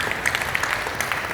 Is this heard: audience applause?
yes